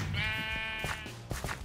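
A sheep in the Minecraft Mineplex arcade game lets out one clear, loud, wavering bleat, followed by brief game clicks and thumps.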